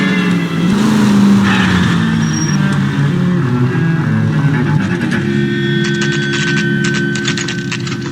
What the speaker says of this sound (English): The car, Cole, just pulling out of the drive.